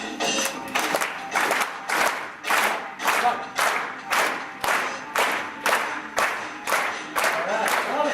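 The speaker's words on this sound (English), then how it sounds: "Everybody with the clap." A convention crowd at a 2015 Northern Lights State SADD event in Bismarck claps along in time, about fourteen loud, evenly spaced beats of massed hand claps with some crowd noise between.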